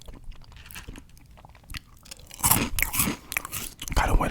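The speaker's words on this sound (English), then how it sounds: "I hope y'all don't mind the crunching." Crisp, close crunching of Fruit Loops cereal being bitten and chewed, with quieter chewing at first and louder, denser crunches toward the end.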